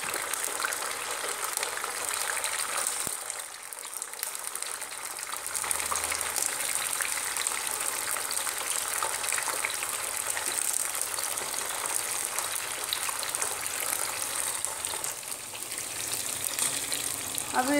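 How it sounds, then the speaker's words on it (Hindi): Chopped capsicum fries in a pan for a besan sabji, giving a steady close sizzle with soft crackling and occasional stirring, alone without talk. "अब हम इसमें डालेंगे अपनी कटिंग की हुई शिमला मिर्ची और हल्का सा ऐसे तल के हम 5 मिनट में बाहर निकाल लेंगे।"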